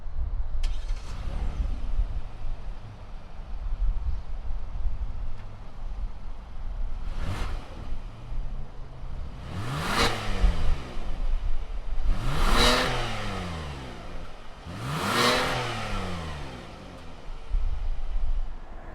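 A 2020 Hyundai Palisade Limited SUV engine turns over and fires up, then revs repeatedly in several loud rising-and-falling surges through the exhaust over a steady idle, close by.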